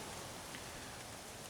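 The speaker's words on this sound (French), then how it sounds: "Sur la caméra, j'arrête pas de nettoyer l'objectif mais bon il pleut dessus" Rain falls outdoors onto a camera lens near a hornet trap in cold weather, giving a steady soft hiss of drops with faint patters, fairly quiet and continuous.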